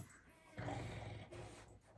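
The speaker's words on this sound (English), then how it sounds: "My gosh, Drew the dog's making devil noises" A dog growls low and whimpers briefly, a faint, close sound from about the middle of the clip, over quiet background noise.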